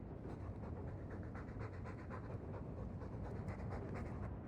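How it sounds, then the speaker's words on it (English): A dog panting in the video game Dragon Age 2, quick rhythmic breaths repeating steadily and close up, fairly quiet, with no talking over it. "All that noisy dog breath, day in, day out."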